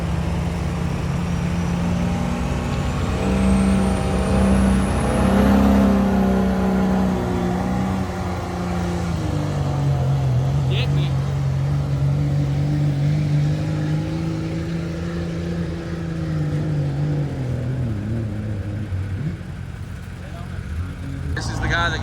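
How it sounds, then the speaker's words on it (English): An Outlaw class pulling truck roars steadily at a Greenville County sled pull, its engine loud and close throughout, pitch rising and dipping as it revs under load. "All right, here's another Outlaw truck."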